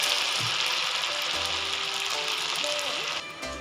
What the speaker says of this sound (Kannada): ಈಗ ಎಣ್ಣೆಲಿ ಈ ಥರ ಫ್ರೈ ಮಾಡ್ಕೊಂಬಿಡೋಣ.